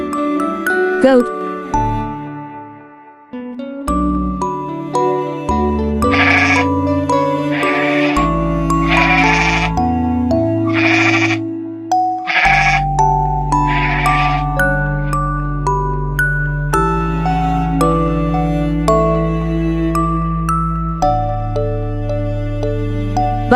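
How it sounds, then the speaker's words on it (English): A string of loud, close bleats from a goat repeats in rapid bursts over tinkling, chiming background music. "Goat."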